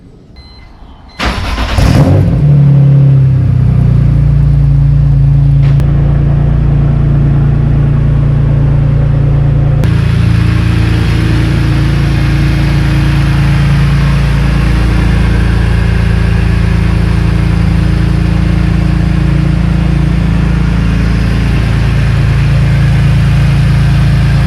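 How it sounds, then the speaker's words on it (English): A 2003 BMW E46 3 Series Touring track wagon with a custom exhaust and Borla muffler: after a brief quiet start the engine catches and settles into a loud, steady, deep idle with no talking. "It's a custom exhaust, and I believe they use the Borla muffler."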